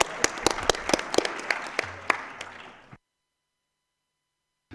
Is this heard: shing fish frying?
no